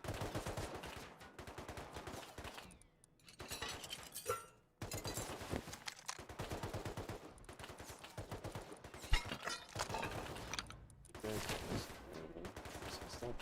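Rapid gunfire bursts from the survival video game Rust, with clustered shots and clattering impacts running through most of the stretch, broken by a couple of brief pauses, loud and busy in the mix.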